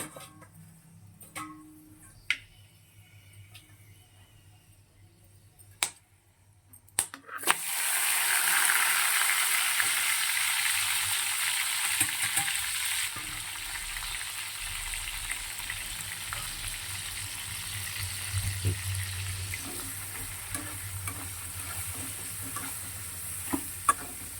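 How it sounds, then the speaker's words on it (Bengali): Cinnamon and cloves sizzle hard in hot oil with fried potatoes, a loud steady frying hiss that bursts in after a few quiet seconds with scattered clicks and stirring, then settles slightly softer. "আলুটা ভাজা হয়ে গেছে, এবার দারচিনি আর লবঙ্গ ফোড়নে দিলাম।"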